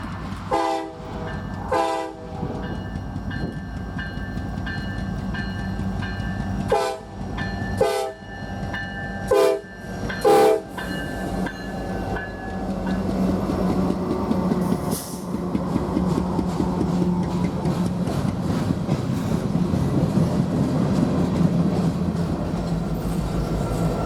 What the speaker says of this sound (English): We also see a unit soda ash train headed westbound.